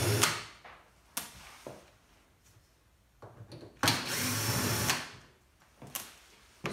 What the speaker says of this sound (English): Undo the two Torx screws here.